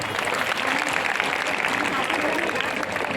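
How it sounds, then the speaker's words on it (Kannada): A crowd claps steadily and densely, loud and continuous throughout with no pauses. "ಚಪ್ಪಾಳೆ ತಟ್ರಿ."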